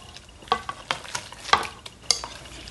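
Grated cassava gets stirred into melted sugar in a pan, a series of irregular scraping, wet stirring strokes with a light sizzle, close and alone without talk.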